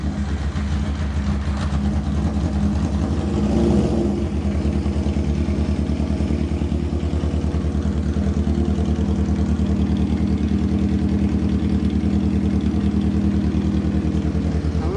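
A restored Subaru BRAT engine idles steadily and close, a continuous low, clattery mechanical drone with a slight surge early on and no talking.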